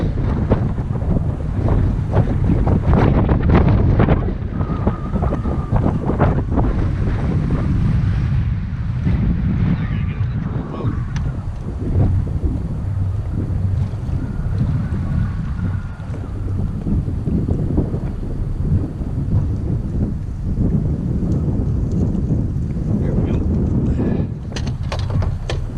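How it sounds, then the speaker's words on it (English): Strong wind buffets a river fishing boat, a steady loud roar with gusting rumble over the microphone, continuous throughout with faint water and hull noise beneath. "This wind is ridiculous."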